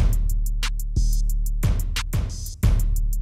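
An electronic kick drum thumps in a steady looped pattern in Ableton Live, punchy low hits with hi-hat ticks above, no voices.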